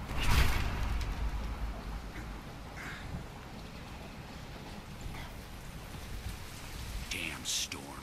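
Steady rainstorm in the game Deadlight, a dense hiss of falling rain on surfaces with occasional splashes and faint distant knocks, moderately quiet and continuous with no talk.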